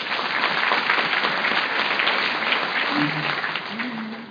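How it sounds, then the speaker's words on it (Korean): Steady applause from a Korean church congregation fills the room, continuing evenly for several seconds, with a faint murmur of voices beneath it toward the end. "박수 한번 쳐주세요"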